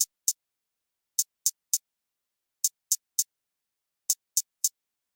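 Crisp, bright hi-hat hits from an ambient jerk beat fall in short repeating groups of two or three quick ticks, separated by clean silence, dry and close with nothing else playing.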